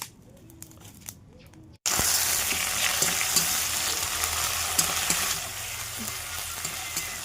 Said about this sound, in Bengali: মাংসটা রান্না করব, তেলটা গরম করতে দিয়েছি, আর একটু চিনি দিলাম সামান্য